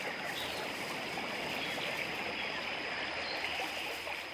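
Steady, loud rush of water pouring over rocky jungle falls, a dense continuous roar with no pauses and no voices.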